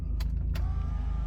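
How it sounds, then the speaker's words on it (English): Electric power window on a Mazda Miata NA rolling up, a steady motor whine over a low rumble, with a couple of short thumps near the start. "I'm just gonna roll up the windows"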